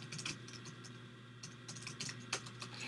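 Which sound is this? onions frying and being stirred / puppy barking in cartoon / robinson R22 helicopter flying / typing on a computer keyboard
typing on a computer keyboard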